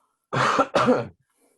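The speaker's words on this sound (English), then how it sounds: "Just got a cough." Two quick, harsh coughs in close succession, close and fairly loud, followed by silence.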